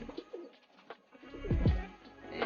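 Pigeons coo in a breeder cage in a loft, a couple of soft, low throaty coos rising near the end over quiet rustling.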